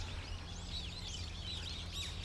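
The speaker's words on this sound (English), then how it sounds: "Wow, so many birds are... Oh, they're actually on the other side over there, chirping happily." Several birds chirp happily outdoors on a slightly rainy day in Japan, their quick, high tweets coming from some distance away over a low, steady background hum.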